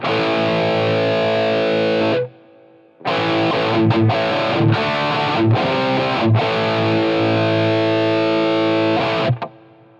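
An electric guitar plays through a Line 6 Pod GO with heavy distortion and added reverb, loud sustained rhythm chords broken by a short pause and several quick stops.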